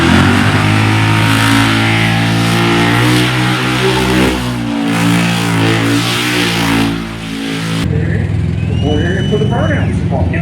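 A car doing burnouts at a motorsport event revs its engine hard and steadily, a loud and sustained roar with a strong harmonic whine. Near the end the tone shifts to rougher tire and engine noise, and no one talks.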